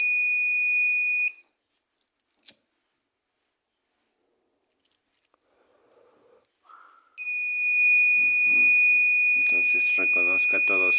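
A smoke detector fire alarm sounds a loud piercing electronic tone, stops for several seconds of near silence, then starts up again while a person talks over it.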